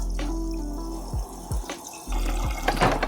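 Water running from a tap to fill for two cups of coffee, a steady close stream with a few brief gurgles and pitch shifts as the flow changes.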